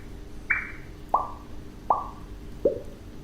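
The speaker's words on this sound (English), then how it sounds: "a water droplet." Synthesized water droplet sound, four distinct plopping drips in a steady rhythm, each a short bright pitch-sweeping blip, stepping lower in pitch, clean and close.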